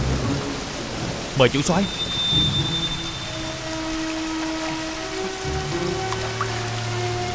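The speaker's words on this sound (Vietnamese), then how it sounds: "trời đã nắng sao mưa đột ngột vậy?" Sudden rain shower with thunder in a Vietnamese folk-tale film scene: steady broadband rain hiss runs throughout, with a low rumble underneath and a brief sharp burst early on, while someone speaks briefly.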